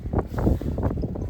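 Strong sea wind buffets the microphone aboard a fishing boat out on the water, a loud, rumbling, gusty roar that fills the short moment with no talking.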